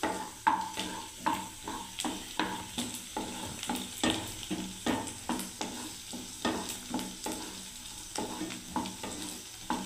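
Spatula steadily stirring garlic frying in a pan, regular scraping strokes roughly every half second over a continuous soft sizzle.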